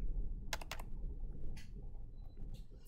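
Soft typing on a computer keyboard, a few quick clusters of key taps heard faintly over a low background hum.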